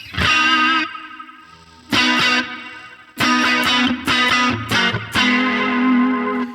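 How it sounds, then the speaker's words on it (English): Distorted electric guitar lead on the neck pickup with a warm, rounded tone, played in short phrases separated by pauses, notes sustaining and bending, with effects and slight reverb. "You'll hear that I switched to the neck pickup."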